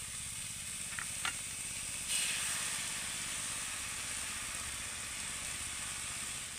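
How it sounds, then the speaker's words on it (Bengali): Egg frying in a pan while making egg momos: a steady, close sizzle with hissing crackle runs through the whole stretch, with a few brief clicks of utensils near the start. "এবার এগুলোকে একটা সাইডে সরিয়ে দিয়ে আমি ডিমটা ভেজে নেব।"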